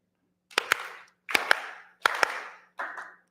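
Four bursts of synchronized group clapping from a TEDx audience at Florida State University, each a quick rhythmic cluster of claps with a short tail, spaced evenly apart and heard clearly with no talking.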